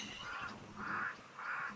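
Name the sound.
pied crows and cape crows cawing at a waterhole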